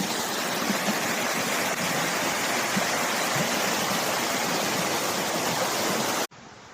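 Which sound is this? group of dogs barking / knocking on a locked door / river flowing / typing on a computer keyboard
river flowing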